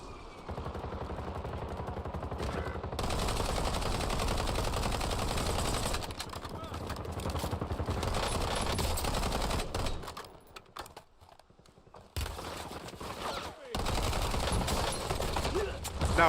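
Sustained automatic gunfire in a Warzone match, long stretches of rapid, typewriter-like shots broken by brief pauses, fairly loud with occasional speech over the top.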